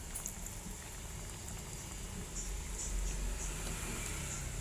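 Sinigang with pork kasim bubbles in a pot, a steady, soft simmering hiss with faint popping, low and continuous, no voices.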